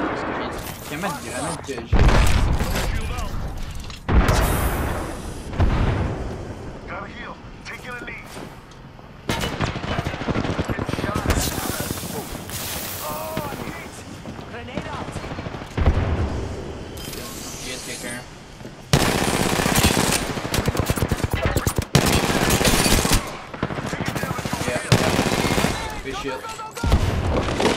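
Bursts of automatic gunfire ring out in an Apex Legends match, loud rapid volleys broken by short pauses, while a player talks and swears over the shooting.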